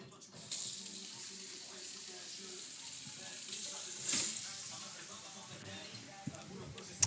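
Cold water runs from a kitchen tap into a bowl for soaking potatoes, a steady soft hiss heard fairly quietly, with a faint voice and a few small clinks.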